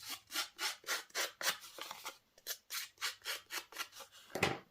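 Paper card edges being distressed by rubbing, a steady series of about fifteen rhythmic scraping strokes, close and fairly quiet, with no talking.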